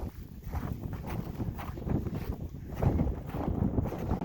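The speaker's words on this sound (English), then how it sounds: "it's a little windy down here, but not that bad" Winter wind buffets the microphone at the Loveland Pass trailhead in Colorado, a steady low rumbling roar that surges and eases, with no voices.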